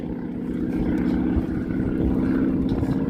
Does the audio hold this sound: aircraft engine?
yes